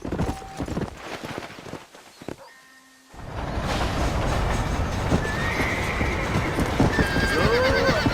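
A horse whinnies and gallops in Red Dead Redemption, a neigh and hoofbeats up front, then a brief hush before rapid, close clip-clop from several horses running on over wind and outdoor noise.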